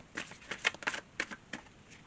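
Tarot cards are being shuffled by hand, a soft rapid riffling that comes in several quick bursts of flicking and pattering. It is faint and close, with no speech over it.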